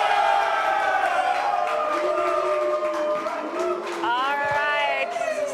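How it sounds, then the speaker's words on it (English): A crowd gathered at a quiz event for Notre Dame Day cheers and whoops loudly and continuously, layered voices rising and falling with shouted calls throughout. "You've got a good cheering section here."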